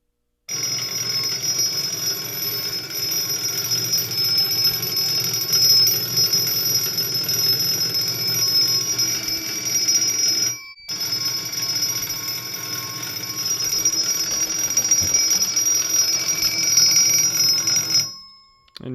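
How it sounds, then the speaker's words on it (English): A Chemitronics heat detector alarm, set off with a lighter during a fire alarm system test, sounds a loud, steady electronic tone that runs continuously, breaks off once for a moment partway through, then resumes until it cuts out near the end. "Let's now activate the Chemitronics heat detector with this lighter."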